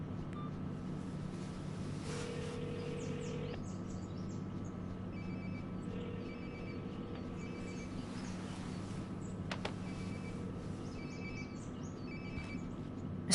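A phone rings in a Fortnite game scene, repeated short electronic ring bursts at a steady rhythm over a faint low ambient hum, fairly quiet and without talk.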